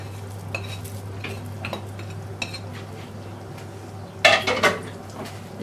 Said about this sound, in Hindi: इसको ज़रा मिक्स कर लेते हैं।